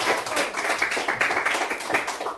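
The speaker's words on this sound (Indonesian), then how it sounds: "tepuk tangan untuk Aisyah dari kelompok" A small group claps for Aisyah from a student group during a classroom presentation on batik, wood carving and other crafts, a steady dense patter of hands close by with no talk over it.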